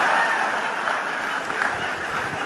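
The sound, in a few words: audience applause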